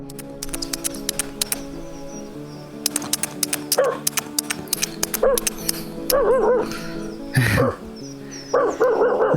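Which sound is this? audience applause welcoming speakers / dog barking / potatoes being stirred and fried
dog barking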